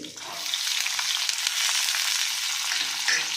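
Lentils, chillies and onion frying in a pan, giving a dense, steady sizzle with faint crackles throughout, close and fairly loud with no talking.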